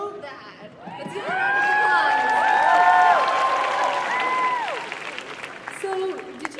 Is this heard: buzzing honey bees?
no